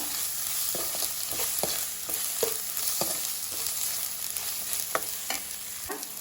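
Cumin powder, garam masala and chili powder frying in a pan while being stirred for a vegetable kurma, a steady sizzle broken by irregular scraping and tapping strokes of a spoon, close and moderately loud, no voices.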